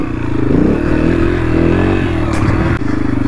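A KTM motorcycle engine drones loud and close while the rider holds a wheelie, its pitch rising and dipping slightly as the throttle is worked, with a brief clatter near the end.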